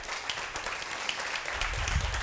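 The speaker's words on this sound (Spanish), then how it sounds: "denle un fuerte aplauso al Señor" A church congregation claps for the Lord during a sermon, a fairly steady wash of applause at moderate distance, with a low rumble swelling near the end.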